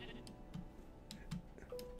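Sheep in the game Minecraft bleat in short, faint bursts that recur a few times over a quiet, ticking background, with no talking.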